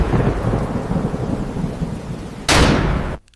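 Rain-and-thunder effect for an audio drama: steady heavy rain hisses loudly, then a sharp, loud thunder crack bursts in near the end before the sound cuts off abruptly.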